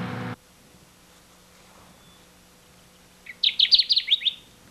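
Song of the endangered Kirtland's warbler in a jack pine forest: a single short burst of bright, rapid chirping notes, fairly close, rising out of quiet background hiss after a brief thump at the start.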